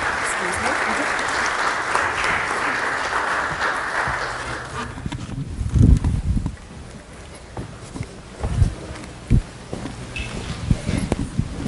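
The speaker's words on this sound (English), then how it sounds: "Applause is welcome." Applause in a church worship service: a congregation claps steadily for several seconds and then tapers off, leaving scattered thumps, shuffling and soft movement around the room.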